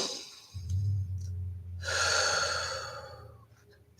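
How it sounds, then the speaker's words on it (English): A deep breath taken during a meditation, a slow audible inhale followed by a long airy exhale, close and alone over a low hum. "take a breath"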